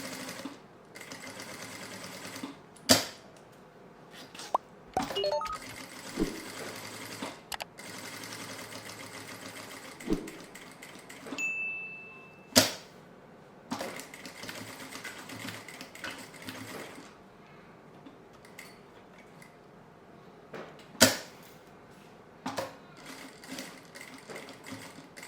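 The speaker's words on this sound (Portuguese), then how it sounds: "Viro e continuo aqui costurando até finalizar" A sewing machine stitches a zipper onto a notebook case, its quiet, steady mechanical whir running in bursts, broken by pauses and sharp clicks and clunks as the work is turned and repositioned.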